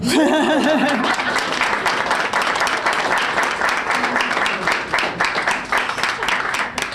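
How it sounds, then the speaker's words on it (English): A crowd breaks into sustained applause, steady and fairly loud, with a voice heard briefly at the start and chatter mixed in underneath. "That's an applause line."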